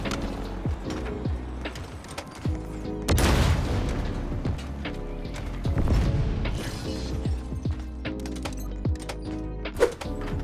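A Wasp aircraft in the video game Halo blows up during a dogfight: a dense stretch of booms and crackling explosion bursts over steady engine hum and game music, with a sharp final blast near the end.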